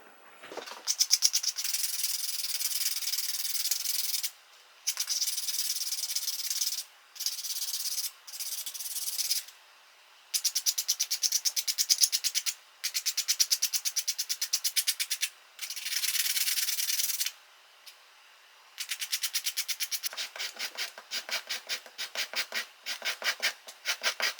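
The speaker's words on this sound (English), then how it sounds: "I'm just going to cut square out of it and just sand it." Sandpaper, 220 grit, rubbed over a homemade wooden walking-bait fishing lure, heard as repeated close rasping strokes in bursts separated by short pauses, finishing with quicker, lighter scratching.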